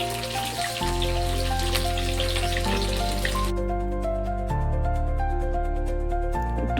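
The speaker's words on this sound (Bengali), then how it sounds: "তেলটা আমার গরম হয়ে গেছে, আলুগুলো দিয়ে দেব। আলুটাকে লাল লাল করে ভেজে নিতে হবে।" Potatoes frying in hot oil for a home-style chicken curry, a steady dense crackling sizzle that fills the scene loudly and continuously, with shifting pitch as the pieces settle in the pan.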